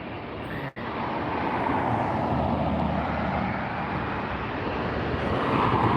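A Condor airliner at LAX airport, a loud, steady broadband jet roar that swells slightly toward the end after a brief cut near the start, with no voices.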